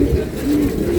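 Pigeons coo in low, soft, rounded tones close by, briefly and alone, against a steady background murmur.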